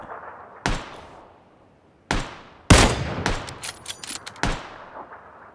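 Gunfire in PUBG Battlegrounds: several sharp, loud shots spaced irregularly, with one heavier burst of close reports in the middle, each followed by a short decaying echo, no talk over them.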